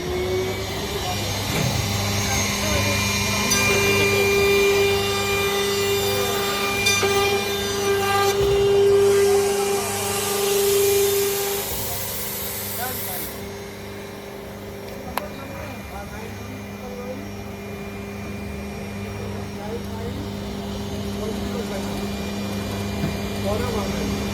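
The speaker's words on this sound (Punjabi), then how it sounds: "ਇੱਥੇ ਇੱਕ ਸਟਾਲ ਹੈ ਮਸ਼ੀਨ ਵਾਲੀ ਇਹ ਆਟੋਮੈਟਿਕ ਟੇਪ ਲਾਉਂਦੀ ਹੈ" An automatic tape-applying machine runs steadily at a stall at the Ludhiana fair, a sustained mechanical whir and hum with a brief louder burst partway, amid crowd noise and people talking nearby.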